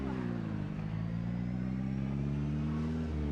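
A car engine hums steadily while driving in the zombie survival video game Project Zomboid, a continuous low drone with layered tones rising slightly, loud and unbroken throughout.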